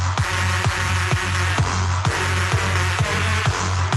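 A modern electronic bass line built on one sustained low note, loud and dense, with a regular thumping pulse repeating about twice a second under a bright, noisy electronic texture.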